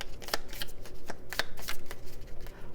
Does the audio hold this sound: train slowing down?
no